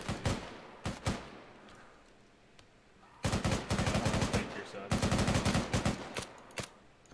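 Rapid gunfire in a zombie survival video game, loud bursts of automatic shots in long dense runs, with scattered single shots early on and faint background voices.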